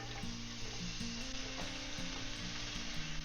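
Onions for tomato soup sauté in a pan with a continuous, even frying hiss, close and moderate, while a low tonal hum sits beneath it. No voices.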